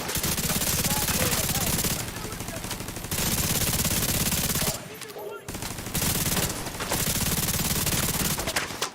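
Sustained automatic gunfire in The Division 2, a third-person shooter, fired in long bursts of rapid rounds with a brief pause near the middle before the shooting resumes; a voice talks faintly underneath.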